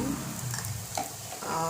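Turmeric goes into a hot pan of sizzling oil and is stirred in, a steady close frying hiss with a few soft scraping movements throughout.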